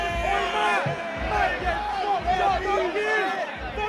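Fight-night arena crowd roaring and chanting in support of one fighter, rhythmic shouted bursts rising and falling, loud and close, with voices bellowing over the din.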